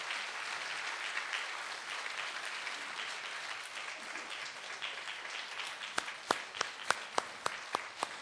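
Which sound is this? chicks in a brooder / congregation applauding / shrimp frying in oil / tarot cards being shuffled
congregation applauding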